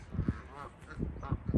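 A few geese honk nearby in short bursts, a handful of nasal calls spaced unevenly over a brief moment.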